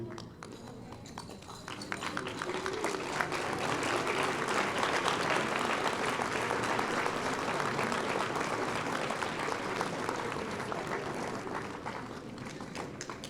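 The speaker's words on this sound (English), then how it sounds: "give your parents a round of applause for being such supportive to you" Sustained applause from a large crowd, steady and full for several seconds before tapering slightly at the end.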